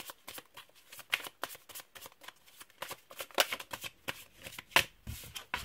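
Tarot cards being shuffled by hand, a dense run of crisp riffling and flicking bursts close to the mic, with no voices.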